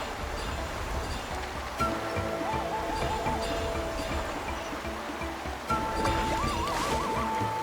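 Swimming through waves in a video game: a steady rushing wash of water runs throughout, with two bright rippling musical chimes rising over it, fairly soft and continuous.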